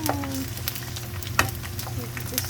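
Steady oil sizzle and crackle from pork skin cracklings frying in oil, continuous throughout with occasional sharper pops.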